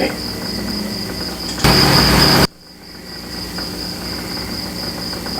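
Crickets chirp in a steady high-pitched drone outdoors at night, interrupted briefly by a loud burst of rushing noise before the chirping continues alone.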